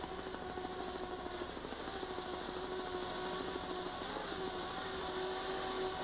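Offshore racing powerboat engines roar at a 1989 APBA race in Bay City, Michigan, a steady, faint, distant drone that holds throughout with no voices.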